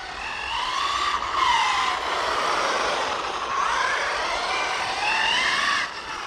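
Losi Super Baja Rey 2 RC car on Rovan Phlatline road tyres, running on pavement with a continuous high-pitched electric motor whine that rises and falls with throttle changes, fairly close and steady throughout.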